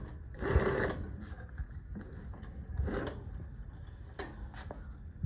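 A New-Tech GC-8B industrial sewing machine on a flat top table runs at speed, giving a steady mechanical chatter that surges in bursts as the pace picks up. It is fairly quiet and there is no talk over it.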